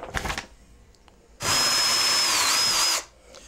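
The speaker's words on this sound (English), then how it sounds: "let's go for the drilling" A power drill whirs loudly and steadily for about a second and a half, drilling holes in a door for a handleset, preceded by a short burst of noise and a few light knocks.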